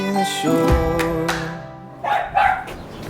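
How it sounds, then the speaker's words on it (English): Farm dogs bark in a series of sharp yaps and yips close by, several bursts spread over a few seconds against faint outdoor background noise. "What's your dog barking at?"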